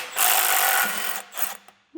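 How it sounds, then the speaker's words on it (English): A power tool whirs loud and close as it loosens an engine crank bolt on a 1000 HP LS1 Trans Am, one sustained buzzing burst followed by shorter pulses, with no talk. "get some power tools in there"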